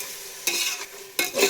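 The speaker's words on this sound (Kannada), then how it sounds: "ಟೊಮೆಟೊ ಚೆನ್ನಾಗಿ ಫ್ರೈ ಆಗಿ ಸ್ವಲ್ಪ ಮೆತ್ತಗೆ ಹಾಕ್ಬೇಕು." Tomatoes sizzle in a hot pan on full flame for an egg biryani, with two distinct scraping stirs cutting through the steady frying hiss, close and loud.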